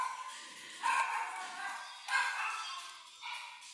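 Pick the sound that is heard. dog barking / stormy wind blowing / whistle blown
dog barking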